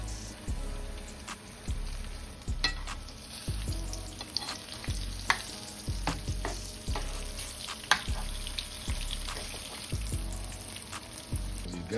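Battered green tomatoes frying in hot oil for Southern fried green tomatoes, giving a steady close crackling sizzle with scattered pops and soft utensil knocks throughout, no voices.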